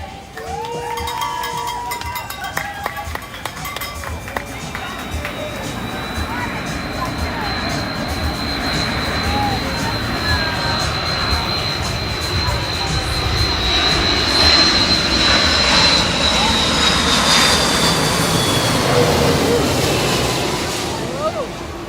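Air France jet airliner from Paris landing at Maho, a loud sustained roar of jet engines that swells as the large plane passes close overhead, with a rising whine on top and voices faintly underneath.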